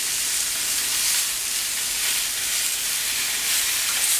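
Chicken sizzles steadily on an electric plancha grill, a close, continuous bright hiss and crackle of frying without pause or talk.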